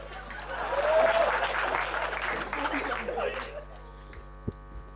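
An audience at a Hindi comedy poetry recital claps in a steady burst of applause with some laughter over a low mains hum. The clapping fades after a few seconds and leaves the room quiet with a few stray sounds.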